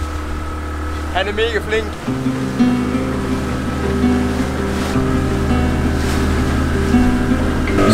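A motorboat heading out to a snorkeling spot drones steadily with a low engine hum and splashing water. Brief speech near the start rides over the motor, which strengthens and stays constant.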